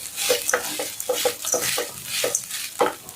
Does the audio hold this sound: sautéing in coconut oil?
yes